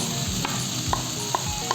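Fried fish pieces go into a pan of sizzling gravy with boiled potatoes for a Bengali fish curry, producing a steady close sizzle broken by a few soft clinks of a spatula or ladle against the pan.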